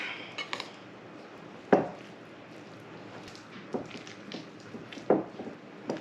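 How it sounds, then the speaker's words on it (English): Cream cheese and shredded raw medium cheddar being mixed in a bowl, giving soft squishing scrapes with a few sharp utensil clinks against the bowl, close and fairly quiet. "Now I'm just going to give this a good mix."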